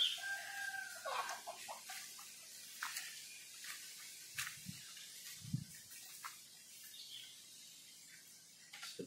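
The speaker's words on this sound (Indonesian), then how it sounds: "kok ada ayam masuk, punya siapa ya?" A chicken clucks and crows faintly in the distance amid quiet outdoor ambience near a fenced duck pen, with a few soft low thumps nearby.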